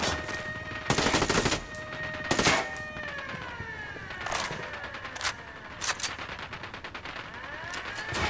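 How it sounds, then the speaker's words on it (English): Gunfire in Ghost Recon: Wildlands during a drug-lab assault under fire from a catwalk: loud bursts of automatic fire and single shots, sharp and close, recurring irregularly over a steady background with no talking. "Taking fire from the catwalk."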